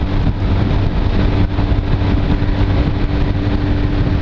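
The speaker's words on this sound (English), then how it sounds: "This bike actually is pretty good at about 55 miles an hour." A Honda CB250 Nighthawk motorcycle cruising at about 55 mph, a steady loud engine drone with low harmonic hum and buffeting wind noise throughout.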